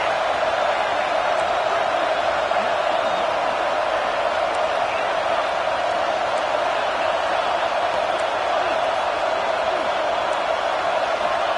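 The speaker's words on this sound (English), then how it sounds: "It's early, but this crowd is fired up. Listen to this noise here." Packed football stadium crowd roaring loudly early in a game, a sustained wall of cheering that holds steady from start to finish, with no commentary over it.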